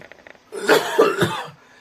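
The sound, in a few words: cough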